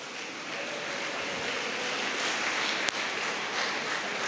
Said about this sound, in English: Let's give a round of applause to Hafil Khalil